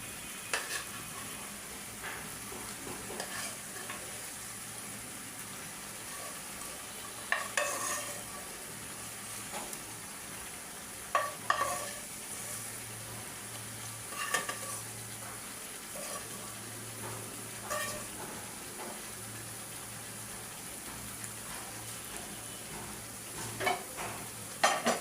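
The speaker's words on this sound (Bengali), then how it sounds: "এখন আমি এই প্যানে আলুগুলো বাচ্ছি" Potatoes sizzle softly in oil in a pan for a mutton curry, with a steady low frying hiss and occasional scraping stirs of a spatula, quiet and close, with no talk.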